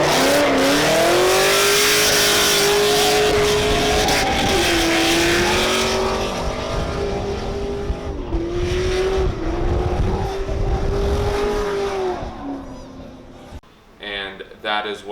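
A drift competition car is driven hard through a tight corner, its engine loud and close with rising and falling revs. Tire noise mixes in, and the engine fades and sputters near the end.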